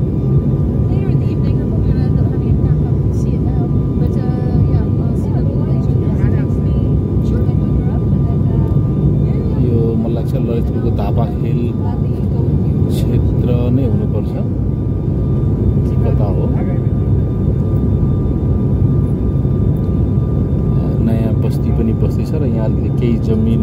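A Buddha Air airliner turns in flight on the Pokhara to Kathmandu route, heard from inside the cabin as a loud, steady engine drone with no letup.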